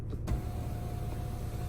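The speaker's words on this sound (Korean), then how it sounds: "선루프" A car's sunroof motor gives a steady electric whine after a short thump at the start, heard close inside the cabin with no speech.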